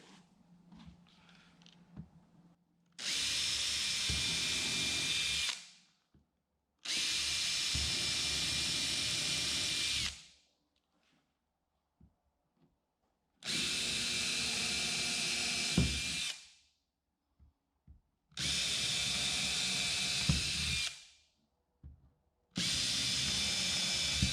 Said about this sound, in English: pre-drill holes into what will be on the underside a 1x4